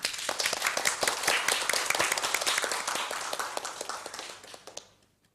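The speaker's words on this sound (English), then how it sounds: "Give applause, please." Audience applause for the Spelling Bee winners at the closing ceremony of the 11th Bina Darma Rector's Trophy 2023, with dense clapping that holds steady and then fades out near the end.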